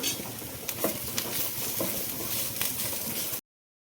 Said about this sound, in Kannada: ಎಣ್ಣೆ ಹಾಕೊಂಡು ಫ್ರೈ ಮಾಡ್ಕೊಳ್ಳೋಣ ಹಸಿ ಮೆಣಸಿನ್ಕಾಯಿ ಹಾಕೊಂಡಿದ್ದೀನಿ ನೋಡಿ ನಾಲ್ಕು ಹಸಿ ಮೆಣಸಿನ್ಕಾಯಿ ಇದನ್ನು ಫ್ರೈ ಮಾಡ್ಕೊಳ್ಳೋಣ